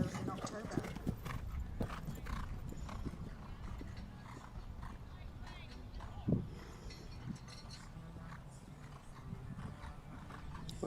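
Horse hooves on course at a national young horse jumping championship, steady close clip-clop footfalls running through the whole stretch, with a commentator talking over them and one louder thud partway through.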